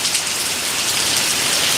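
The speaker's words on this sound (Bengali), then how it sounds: "এখন অনেক বৃষ্টি কমে গেছে অনেকটাই" Rain falls steadily on surfaces outside a local school in a Malaysian village, after earlier heavy rain has eased. A dense even hiss of drops, close and fairly loud, with no voices.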